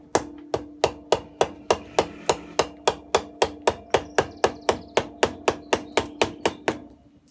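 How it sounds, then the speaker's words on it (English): A wooden mallet drives a carving tool into wood while a feast bowl is hollowed out, giving a steady series of about twenty sharp, close knocks at an even rhythm. "I'm using the mallet to actually move the wood"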